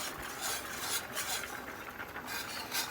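A whisk scrapes and stirs gravy in a pan on high heat, producing a quiet, steady rasping swish with soft rhythmic strokes and a faint sizzle, no talking.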